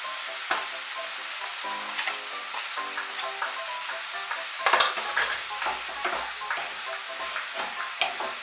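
Spice paste with ground coriander leaves and sugar is stirred and sautéed in a pan: a close, steady sizzle broken by repeated scraping and clinking strokes of a spoon at an uneven, busy rhythm, with no talking.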